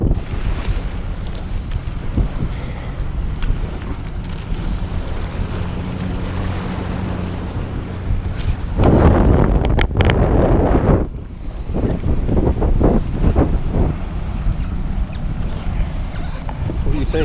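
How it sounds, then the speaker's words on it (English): Strong wind buffeting the microphone on a bass fishing boat at a tournament on Shelbyville lake, over rumbling water and engine noise, gusting harder midway, with a voice briefly audible. "It's a little rough out here, a little windy."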